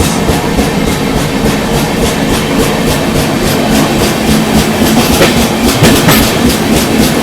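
The Chalukya Express train, running from Tirunelveli to Dadar, travels through the Western Ghats near Londa Junction in heavy rain, with loud, continuous rumbling and rhythmic clickety-clack of wheels over rail joints heard up close.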